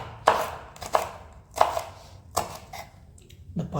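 Green chilli is sliced diagonally with a knife on a board, giving four or five distinct, evenly spaced cutting knocks. The sound is close and clear, with no talking.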